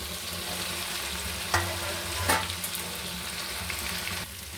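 Fried papaya, potato and soybean drop into sizzling masala, giving a loud steady frying hiss with a couple of sharper bursts as pieces hit the pan and are stirred.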